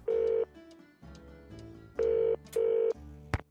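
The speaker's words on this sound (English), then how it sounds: "Let's use the phone." Telephone keypad dialing in a Nancy Drew video game: four short electronic touch-tone beeps in an uneven rhythm, followed by a faint click. Close and clear, with no talk.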